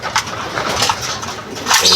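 Several domestic pigeons coo and murmur at close range, a steady, continuous mix of soft throaty calls over a busy background.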